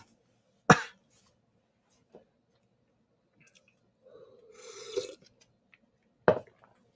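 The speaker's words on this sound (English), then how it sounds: "Elbow cough, elbow cough." Two abrupt, close coughs into an elbow punctuate near silence, separated by a soft throat sound and a brief rustle.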